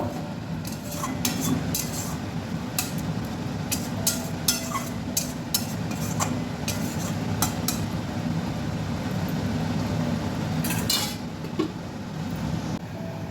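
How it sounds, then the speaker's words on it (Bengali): A metal lid comes off a cooking pot of tomatoes and green chilies simmering for a Lote fish curry, with repeated close clinks and clatters of metal cookware against a steady kitchen background. "আমি ঢাকাটা খুলে নিলাম।"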